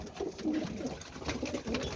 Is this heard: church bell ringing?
no